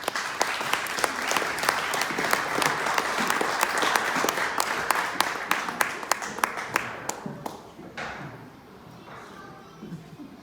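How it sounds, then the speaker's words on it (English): Audience applause for a woman candidate running for Congress in LaSalle County, Illinois, with dense clapping that carries strongly for about seven seconds and then thins into scattered claps and fades. "So give her another round of applause"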